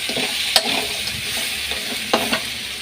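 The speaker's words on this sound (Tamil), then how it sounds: "இதை கொஞ்சம் நல்லா வதக்கிட்டு கொஞ்சம் நண்டு வேக பண்ணிடலாம்." Crab sautés in a pan for a Tamil home-style dish, a constant close sizzle broken by a few sharp scraping stirs of the spatula; nobody talks.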